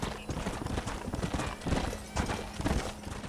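Rapid clip-clop of galloping horse hooves in the video game Red Dead Redemption, close and steady, with a brief whinny in the mix and no voices.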